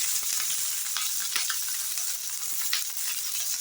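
Fennel seeds and curry leaves frying in hot sesame oil, a steady close crackling sizzle with small pops throughout, no voices.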